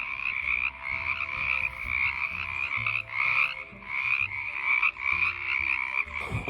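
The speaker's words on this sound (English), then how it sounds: "the frogs sound like this in the middle of the day" Frogs by a small backyard creek croaking in the middle of the day, a loud, dense chorus of rhythmic raspy calls pulsing in repeated bursts, close and continuous.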